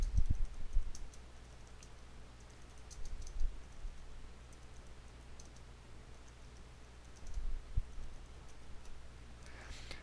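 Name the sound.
computer mouse clicking and keyboard typing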